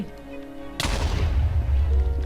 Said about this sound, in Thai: ระเบิดประสาทเลยนะ ไม่ต้องขุดนะ